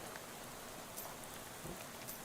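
Steady rain ambience from the video game Shadows over Loathing, a faint, even patter of drops on a surface with a few slightly louder splashes and no voices.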